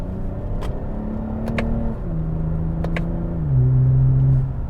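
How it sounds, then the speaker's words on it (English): A 2020 Toyota Camry TRD with an 8-speed automatic in sport mode drones at steady engine pitch, then drops in steps as it downshifts to second, the tone shifting lower and louder near the end with faint clicks. "putting this thing into sport here, I'm going to downshift to second"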